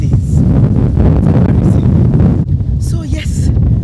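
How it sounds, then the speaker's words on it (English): Gusty wind buffets the microphone in loud, low rumbling bursts, with brief faint higher sounds near the end. "It's very windy again today."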